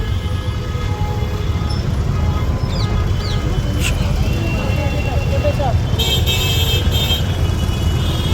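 Dense roadside traffic in the summer heat, a constant roar of cars, buses and motor vehicles with a short horn toot partway through, loud and steady from start to finish, with a voice talking over it.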